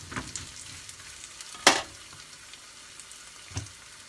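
Coconut milk poured into a pan of frying fish curry made with fried striped catfish, a soft steady sizzle broken by one sharp splash and a later small knock, no talk.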